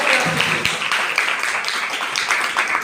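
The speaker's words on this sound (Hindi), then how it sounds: "क्लैपिंग भरपूर तालियां" Students clapping together at a school quiz competition, a continuous loud patter of many hands with some slightly stronger claps, fading a little at the end.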